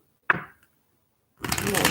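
A deck of tarot cards is shuffled close by: one sharp riffle snap, a pause, then a dense, continuous flutter of cards riffling.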